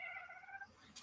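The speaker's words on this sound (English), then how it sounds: "if you hear my cat, that's my cat talking to the birds." A house cat near an open, netted door chatters at birds outside, giving a short, faint run of high, wavering meow-like calls that trail off, with a brief sharp noise at the end.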